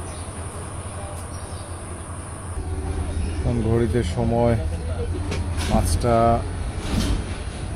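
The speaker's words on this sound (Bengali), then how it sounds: "এই 5:48-এ আমাদের ট্রেন ছেড়ে দিল মাইজগাঁও থেকে" Udayan Express passenger train running on rails after departing Maijgaon station in Bangladesh, a steady low rumble throughout that grows louder midway, with someone speaking over it.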